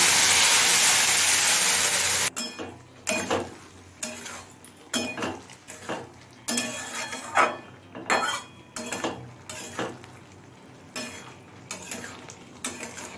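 Water poured from a mixer jar into a hot pan of Malabar spinach stems and spice paste: a loud rushing hiss for a couple of seconds, then a run of close metallic clanks and scrapes of stirring, no voices.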